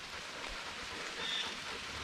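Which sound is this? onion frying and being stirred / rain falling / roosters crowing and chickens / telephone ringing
rain falling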